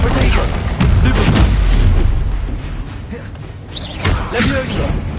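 Confringo spell blasts in Hogwarts Legacy boom and thump loudly in quick succession, dense and close, with speech running throughout.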